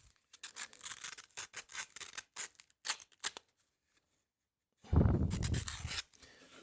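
A curved scraper is honed by hand with a makeshift slipstone, giving short, quick bursts of close rasping strokes that stop for a pause and then return as one longer, heavier rub.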